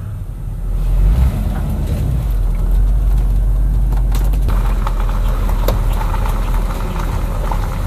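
Car engine fitted with a cheap Chinese-made carburetor, started and running steadily at idle with a loud, continuous low rumble, a slight rise partway through and some faint clicks and rattles.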